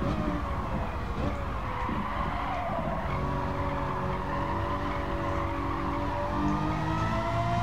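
Tires of a Lamborghini Murcielago LP 640 squeal at Monza in a racing game, a long, loud, wavering screech over the steady engine drone, with no talking.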